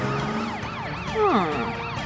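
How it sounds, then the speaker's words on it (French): A cartoon police truck's warbling siren sweeps up and down in steady cycles to scare a ghost, with a sliding whistle-like swoop in the middle, over a soft musical background. "La sirène va l'effrayer"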